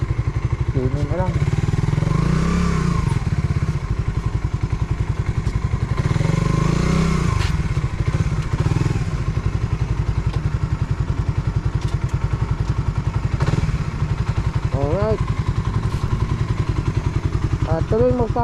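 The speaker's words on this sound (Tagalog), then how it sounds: "Ang dami ng motor din eh." Motorcycle engines idling with occasional revs in a parking area, a steady low rumble throughout, while someone talks over it.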